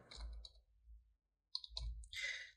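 Computer mouse clicks on a Windows 11 PC, several soft, quick clicks in two brief bursts separated by a pause, faint and close.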